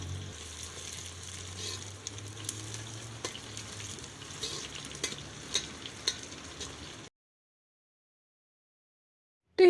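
Dried beans fry in hot oil in a pan with a soft, steady sizzle and scattered stirring clicks, fairly quiet, before cutting to silence near the end.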